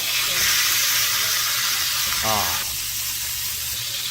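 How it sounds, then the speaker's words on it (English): A steak's fat cap sears in a hot pan, a broad, steady sizzle that runs close and loud for the whole stretch, with a brief bubbling flutter midway before the frying settles slightly quieter. "We'll sear the fat cap because, when you sous vide, you need to make sure you render out the fat."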